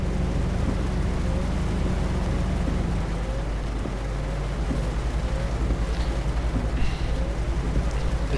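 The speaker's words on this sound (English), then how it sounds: "This is like no surprise that it's raining in England." Rain falls during a truck drive in Euro Truck Simulator 2 on an English road, a steady hiss of raindrops over a low, constant engine drone, even and unbroken throughout.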